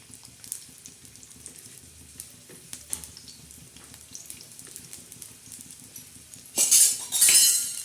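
Onion drops into hot oil in a pan, setting off a loud burst of sizzling frying after a stretch of quiet kitchen clinks and light stirring.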